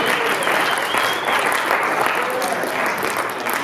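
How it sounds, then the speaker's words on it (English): An audience at a school student government candidates' event applauds steadily in a dense, even round of clapping that stays loud throughout. "So if we can get a quick round of applause for Taylor."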